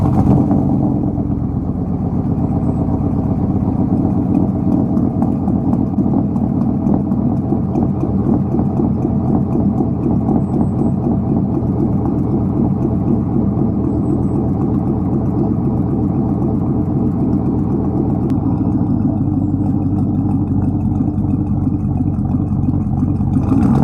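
Truck engine running at a steady idle just after cranking up, a continuous rumbling drone with a faint rhythmic pulse held for over twenty seconds, with no speech.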